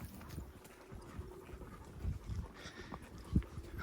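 Horse hooves clop softly and unevenly as a rider moves through brush on a cattle drive, quiet and close, with scattered rustling and one sharper thud near the end.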